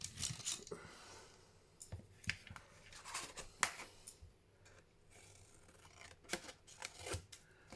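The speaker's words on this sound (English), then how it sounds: "this is where we need to cut our corners." Scissors snipping the corners of a craft journal cover, a series of quiet crisp cuts and paper rustles in irregular bursts, close and faint.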